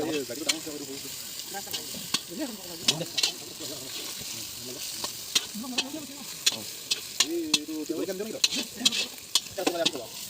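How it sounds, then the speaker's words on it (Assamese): Duck meat frying in a pan with spices for a village feast gives a constant sizzle broken by sharp scraping stirs, while a person talks over the cooking. "মাংসখিনি ইয়াত দি পেলাই অলপমান ভাজিম"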